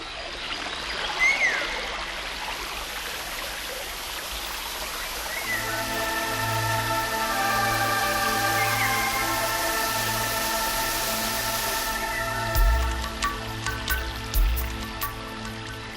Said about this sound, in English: the cascading waterfall, the dragon waterfall